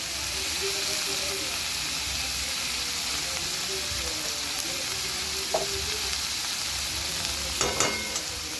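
Green chillies, chopped tomato and spices fry in a pan with a loud, steady hiss and sizzle, broken by a few faint stirring scrapes.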